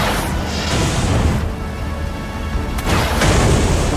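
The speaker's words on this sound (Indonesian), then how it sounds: "saat di perjalanan, tiba-tiba mereka diserang oleh satu kelompok hingga terjadi aksi tembak-tembakan" Gunshots and explosions crackle and boom through a loud action-movie shootout during an ambush on a car journey, dense and continuous with a brief lull before the bursts return.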